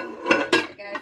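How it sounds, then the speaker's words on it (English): Dishes and cutlery clattering as they are washed in a home kitchen sink, several close, loud bursts of clinking and scraping over about a second, with no talking. "now I'm washing the dishes that we had left in the sink"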